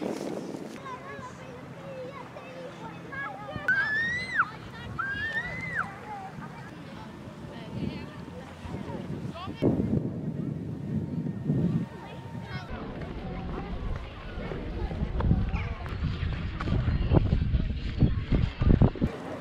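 Gusty wind buffets the microphone on the windy side of an island with low rumbling bursts that grow stronger toward the end, while people talk throughout.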